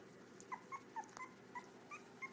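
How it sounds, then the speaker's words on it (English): Three-week-old puppies whimper faintly in a quiet room, giving a string of about eight short, high, thin squeaks and yips in an irregular rhythm, close but soft. "here comes Sara and Nancy's puppies together"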